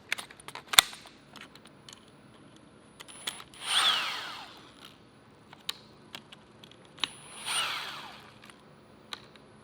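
Power tool spinning out the screws on carbon fibre covers of a Roush Stage 3 Mustang, with two clear whirring bursts several seconds apart between scattered light clicks and taps of the tool and parts.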